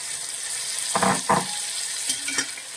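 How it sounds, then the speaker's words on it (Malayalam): Chopped tomatoes added to onions and chicken frying in a pan for a roasted-coconut chicken curry, a soft continuous sizzle with a few louder stirring scrapes near the middle, close up and without speech. "ഇനി നമ്മൾ രണ്ട് തക്കാളി അരിഞ്ഞെടുത്തിട്ടുണ്ട് ആ തക്കാളി കൂടി നമ്മൾ ഇതിനകത്തോട്ട് ചേർക്കുകയാണ്"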